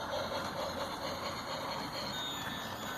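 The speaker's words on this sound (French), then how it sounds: "Ici, comme vous l'entendez, il y a le petit train." A small toy Christmas train runs through an illuminated holiday decoration display outside a house, a steady mechanical rolling rattle heard at moderate distance and unbroken throughout.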